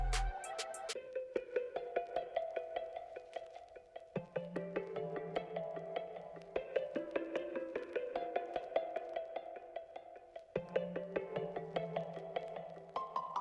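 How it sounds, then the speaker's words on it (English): A synth lead melody from the Omnisphere 'Loner Times' patch, played as a repeating pattern for a beat. It sounds steady and moderately loud, with no voices. "the sound was taken from Omnisphere as well, and the name of it is Loner Times"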